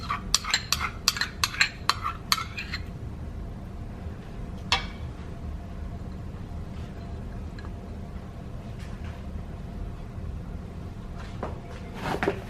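Liver being mixed by hand with ginger garlic paste in a bowl, a quick run of clinking spoon taps at first, then a soft, steady wet stirring with occasional knocks.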